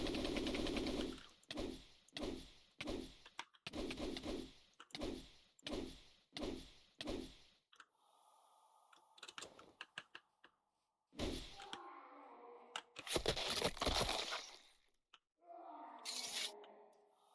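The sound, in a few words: Mist Barrage move effect from a video game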